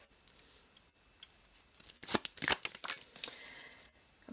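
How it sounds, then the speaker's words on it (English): Tarot cards are shuffled in quick bursts, a few soft riffles and then a cluster of crisp papery flicks and slaps close to the mic, with quiet pauses between them. "Let's start here with shuffling."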